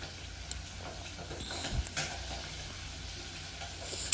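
Meat frying in a pan for Nigerian fried rice, giving a steady low sizzle with faint crackles and a couple of brief clinks, fairly quiet and close with no talking.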